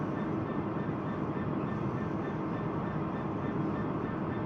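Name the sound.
train running in Train Simulator Classic video game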